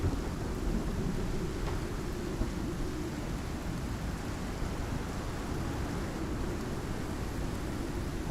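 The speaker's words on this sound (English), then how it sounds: "This storm is crazy loud right now." A loud thunderstorm with rain in the survival video game Icarus, a heavy constant roar of rainfall and deep rumbling thunder with no break, close and enveloping.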